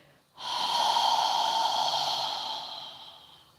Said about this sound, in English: take a few deep breaths. Inhale through your nose. And when you're ready, exhale with your mouth open.